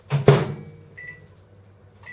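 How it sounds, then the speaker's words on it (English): A single short electronic tone from a microwave oven, moderately loud, after a couple of brief clunks, with quiet background hum and a second faint beep at the end. "you'll hear the microwave go ping in a sec."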